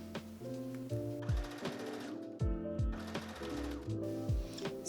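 A sewing machine stitches across the top edge of dress pieces. The needle chatters in fast, continuous bursts, with a low motor whir rising and falling as the stitching starts and stops in short runs.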